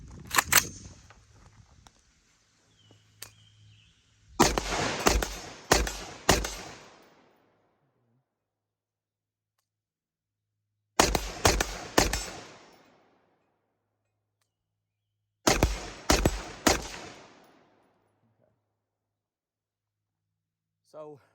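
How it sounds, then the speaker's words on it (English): Rifle fire at targets 50 yards away comes in three tight bursts of rapid, sharp shots, each group of about four reports ringing out loud and near with brief echo, separated by long silences. "Let's see how quick I can get some shots off on these targets."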